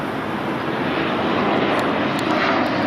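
A fixed-wing airplane passes overhead on the LAX flight path near the Intuit Dome in Los Angeles, a loud, steady broadband engine roar that fills the whole clip with no speech.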